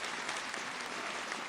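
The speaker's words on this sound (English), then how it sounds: "let's get one more round of applause" A studio audience at a talk show claps steadily, a dense, even burst of applause that carries on without a break.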